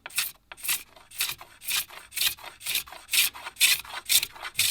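Rhythmic rasping scrapes as a blade strips varnish from an old yew English longbow, about a dozen close, evenly paced strokes with brief gaps between them and no talking.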